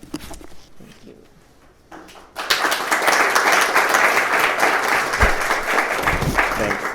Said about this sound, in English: you should probably save your clapping for people who actually deserve it